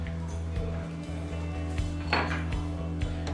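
Paneer momo filling with cumin powder is stirred in a bowl, the spoon giving faint repeated clinks and scrapes against the dish over a low steady hum.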